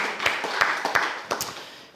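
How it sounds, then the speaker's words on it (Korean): A church congregation claps in thanks during a Korean worship service, a short burst of scattered, uneven hand claps with a few distinct sharp smacks that taper off within two seconds. "우리 하나님께 감사의 박수 올려드립니다"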